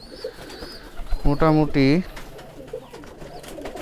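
Giribaz pigeons at a Rajshahi pigeon farm give two close, clear coos in quick succession over a faint background, while someone speaks nearby.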